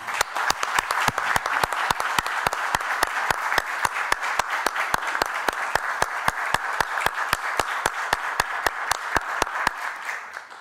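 A council session audience breaks into loud, sustained applause that settles into a steady rhythmic beat of unified claps, continuing for about ten seconds before easing at the end.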